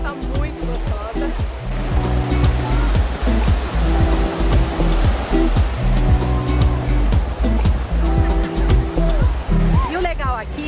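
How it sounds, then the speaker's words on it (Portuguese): Gentle, calm sea waves washing onto a white-sand beach, with steady surf and wash close by and brief splashes throughout. "o legal aqui é que as ondas não são tão fortes"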